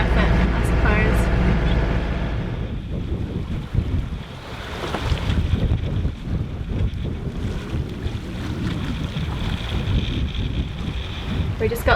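Gusty wind buffets a sailboat under head sail at sea off New Zealand, a continuous roar of wind noise mixed with the wash of water along the hull.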